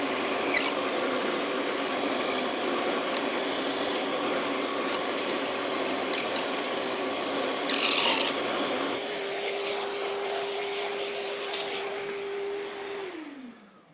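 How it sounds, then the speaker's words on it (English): Steady rasping whir of a 3/8 drill bit boring through a gear shift pen blank, loud and continuous for about nine seconds, then settling into a smoother hum with a steady tone before winding down and cutting off. "We're ready to drill this thing."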